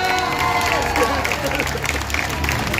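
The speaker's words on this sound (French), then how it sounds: "on peut les applaudir s'il vous plaît." A crowd claps and cheers at a cosplay parade during the St-Malo Japan Pop Show, the dense applause mixed with loud crowd hubbub and some voices over a busy event background.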